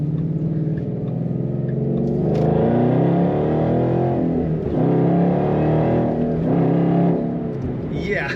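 A supercharged 2013 Ford Mustang GT engine roars steadily under acceleration, its deep rumble rising and dipping with gear changes, close and loud throughout.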